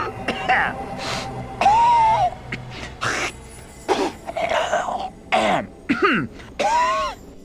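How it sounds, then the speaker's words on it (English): Armpit, a character in the video game Fallout: Brotherhood of Steel, burps and clears his throat in a string of short, loud, guttural bursts, with groaning, voice-like vocal sounds between them. "constantly burping and clearing his throat as he talks"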